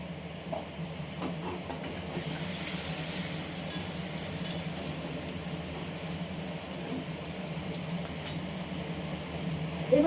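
Bay leaves and whole cumin seeds sizzle in hot oil, a steady low frying hiss that swells briefly, with faint clinks near the end and no talking.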